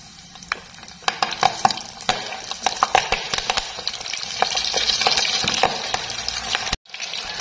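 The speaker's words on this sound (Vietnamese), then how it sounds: "Dầu nóng rồi mình sẽ cho tôm vào nha." Shrimp sizzle and crackle in hot oil over high heat, with sharp pops and spatters over a steady frying hiss, close and fairly loud.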